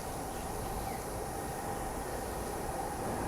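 Steady rushing rumble of an MRT metro train passing at a distance in Singapore, fairly faint and even throughout, with no voices.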